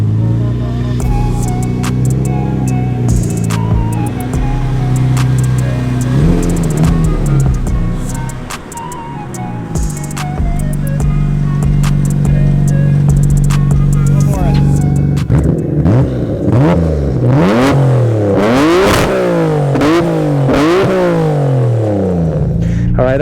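An R33 Skyline with an RB26 engine revs and accelerates hard up through rising, sweeping engine notes, loud and close, with repeated climbs and shifts toward the end.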